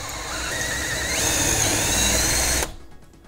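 A drill countersinks a hole for a flat-topped bolt with a loud, rising whine and a squealing cutting tone for about two and a half seconds, then stops abruptly.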